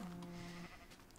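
A single short sheep bleat from the video game Minecraft sounds clearly for about half a second, then fades into quiet background.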